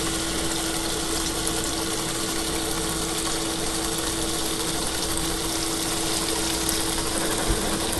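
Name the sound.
water poured over peeled shrimp in a container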